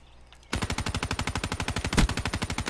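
Golden gun firing in a video game: a sudden, loud burst of rapid automatic shots in steady rhythm, about a dozen per second, running unbroken for over two seconds with one heavier blast near the end.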